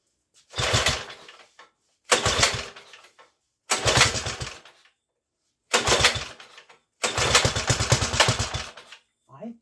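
A small engine on a Trail Horse GTO 300 minibike is pull-started with the choke on: five separate harsh bursts of cranking and brief sputtering, each about a second long and split by silence, loud and close.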